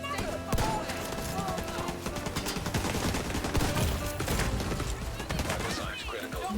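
Shotgun and LMG fire in The Division 2, a dense, loud stretch of rapid automatic bursts and heavy blasts with crashing impacts, continuous for several seconds under a talking voice.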